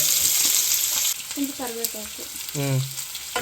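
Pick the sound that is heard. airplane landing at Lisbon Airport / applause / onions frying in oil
onions frying in oil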